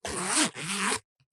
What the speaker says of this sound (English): Listen to that zipper action.